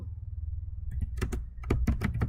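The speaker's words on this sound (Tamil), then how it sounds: "இப்போ நான் வந்து சும்மா ஒரு கோட் டைப் பண்ணுறேன்" Someone types Python code on a computer keyboard while setting up Visual Studio Code: a quick, uneven run of crisp, close key clicks starts about a third of the way in, over a steady low hum.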